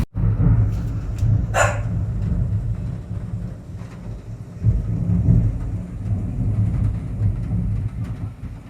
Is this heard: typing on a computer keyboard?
no